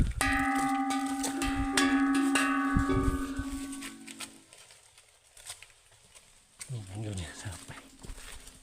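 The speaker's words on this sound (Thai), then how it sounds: "มีระฆังพร้อมนะครับ ตีได้" A bell at the Phu Phek temple ruins rings out with sustained metallic tones over the first few seconds and decays, later giving way to footsteps and voices, with someone talking throughout.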